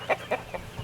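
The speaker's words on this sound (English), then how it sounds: "These two roosters here I use for breeding." A rooster crossbred from Australorp and Rhode Island Red clucks on a farm, giving three short, evenly spaced calls fairly close by.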